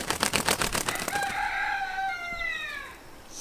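A quick run of clucks gives way to one loud rooster crow, close by and drawn out, trailing off at the end.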